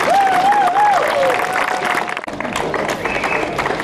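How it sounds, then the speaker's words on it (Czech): Audience applause at a local charity event, a dense clapping crowd with a sung or whistled tone over the start and a brief dip midway before the clapping resumes. "Rozloučení od vás, potleskem."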